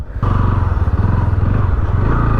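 A 2023 Bajaj Pulsar NS160 motorcycle engine starts and settles into a loud, steady idle with a rapid, even thumping pulse, close up.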